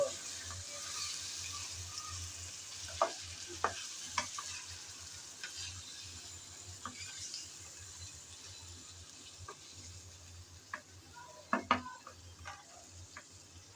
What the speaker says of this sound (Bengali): মাংসগুলো দিয়ে নেড়েচেড়ে ভালোভাবে একটু কষিয়ে নেব।